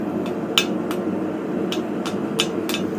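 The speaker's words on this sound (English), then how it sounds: "Take the detailing hammer." A detailing hammer strikes the edges of a freshly forged metal hook, giving sharp, scattered metallic taps at an uneven rhythm, moderately loud over a steady background hum.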